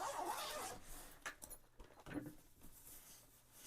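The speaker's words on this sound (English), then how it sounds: "Can unzip it. Where's the other zipper?" A zipper on a new LS2 Valiant 2 motorcycle helmet's bag is pulled open in a few quick, rasping bursts with short pauses between them, close by and fairly clear.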